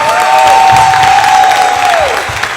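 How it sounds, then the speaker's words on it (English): Audience applause and cheering for panelists at a women's wellness event, loud and close, with a sustained tone running through the clapping before it tails off. "Give them a round of applause"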